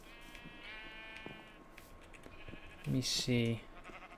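Minecraft sheep bleat twice in quick succession near the end, loud, wavering game bleats following softer clicks and blips, with someone talking quietly beforehand.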